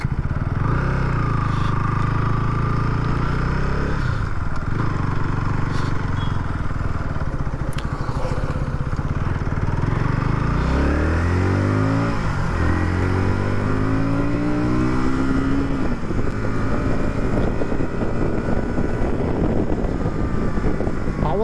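A KTM Duke 160, a 160cc motorcycle, is ridden with a loud, continuous engine drone that rises and falls in pitch through gear changes and revs, mixed with heavy wind rush on the microphone.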